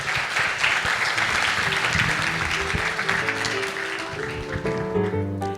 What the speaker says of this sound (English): Shall we give him a round warm of applause?